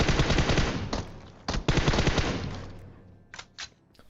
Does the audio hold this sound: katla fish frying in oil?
no